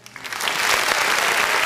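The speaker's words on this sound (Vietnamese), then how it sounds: "Em xin được dành một tràng pháo tay để cảm ơn ban nhạc" Dense, loud audience applause for the band at a live anniversary concert, rising within the first half-second and holding as a steady wash of clapping to the end.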